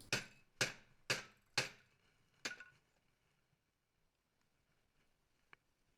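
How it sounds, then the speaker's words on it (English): Five sharp hammer blows on a metal brake part of a PZ drum mower, with a brief ring: four in steady quick succession, then one more after a pause, followed by near silence and a faint tap. "When the gentle taps don't work, you need a bigger hammer."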